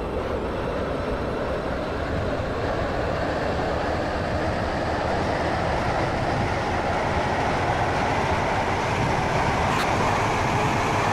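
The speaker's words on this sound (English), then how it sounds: "Please mind the gap between the train and the platform." Steady rumble of a train running in the Roblox game Stepford County Railway on a Waterline service, a continuous loud rolling drone with track noise holding evenly throughout.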